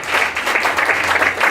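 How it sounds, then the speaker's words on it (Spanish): A church congregation breaks into brief, dense applause for the Lord during a worship service, many hands clapping loudly and close together. "Denle un aplauso al Señor, por favor"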